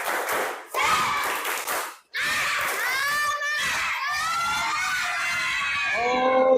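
A classroom group of children performs a tepuk semangat clapping chant, bursts of rhythmic claps and shouted chanting in loud, lively unison, with a brief pause before the chorus resumes.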